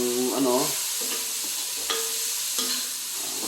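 Sardines sizzle and fry as they are sautéed in a pan while cooking a vegetable dish, a steady close hiss with brief stirring clatter and a short burst of voice near the start.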